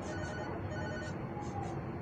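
A telephone ringing inside a Hindi-played 3D horror house game, a faint repeating electronic ring buried in a dense, steady wash of game background noise.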